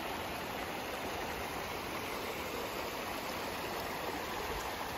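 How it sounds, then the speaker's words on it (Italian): An Icelandic waterfall in five tiers and the stream below it roar with a steady, dense, unbroken wash of rushing water, loud and close, with no voices. "È una cascata composta da 5 parti, come potete vedere"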